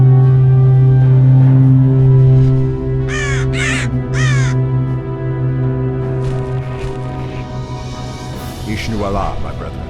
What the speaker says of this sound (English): Let the storm crows fly once again upon the winds of war.